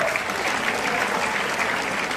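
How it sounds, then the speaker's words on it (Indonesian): An audience at a product presentation for a water filter pitcher breaks into dense, steady applause that stays loud and even throughout. "Ya, tepuk tangan dulu"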